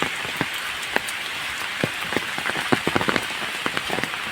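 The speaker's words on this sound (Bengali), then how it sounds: "বৃষ্টি থামবে না আজকে।" Rain falls steadily on surfaces in an Indian village on a rainy day, a dense patter of close, distinct drops with scattered louder splashes and no talking.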